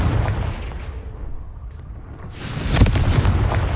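Confringo blasting spell blowing apart rocks in the Hogwarts Legacy video game, heard as a low rumbling roar that swells into a loud, crackling explosive burst with heavy booming debris near the end.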